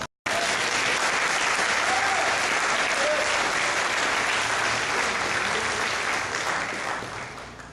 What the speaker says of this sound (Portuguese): Vocês podiam aplaudir o Senhor.